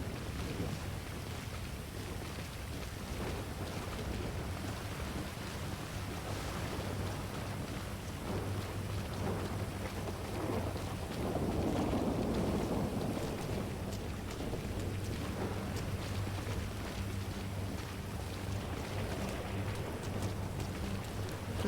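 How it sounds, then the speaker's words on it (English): Heavy rain pours steadily in a GTA roleplay game storm, a dense continuous wash with low rumbling thunder swelling in the middle, loud and unbroken throughout. "This is a very long storm, I just realized."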